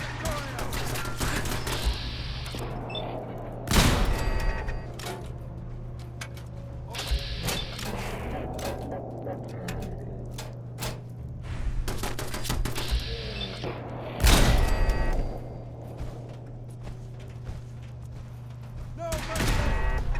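Turrets fire in the video game Fallout 4 inside a synth-compromised facility, loud bursts of rapid gunfire with heavy thumps and mechanical clanks over a steady low hum, talking at times.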